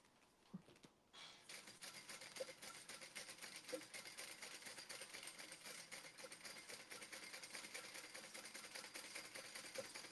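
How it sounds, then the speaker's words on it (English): A sewing machine top stitching folded fabric, starting after a brief quiet moment and then running as a steady fast whirring hum, near and fairly soft, with no talking. "you're going to fold this out. And top stitch it."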